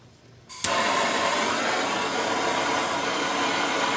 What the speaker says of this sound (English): Get yourself a propane torch or a MAP gas torch.